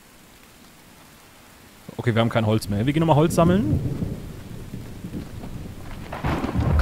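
Rain and rolling thunder in the survival game The Infected swell in suddenly and keep rumbling on, with someone speaking German over the storm.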